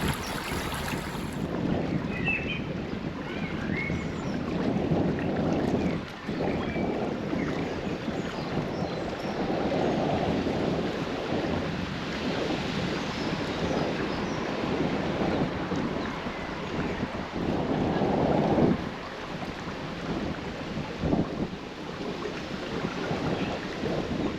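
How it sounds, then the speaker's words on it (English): Strong wind buffets the microphone in roaring gusts, rising and falling over a faint wash of water, with no voices. "Really windy today."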